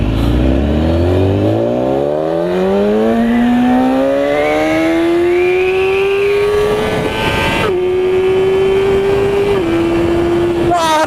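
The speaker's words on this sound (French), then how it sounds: "La bécane elle est munie d'un pot à cras, ce qui fait que le bruit est" A BMW S1000 RR sport motorcycle engine revs hard and climbs through the gears with a loud, raspy racing exhaust, then holds a steady high drone close by.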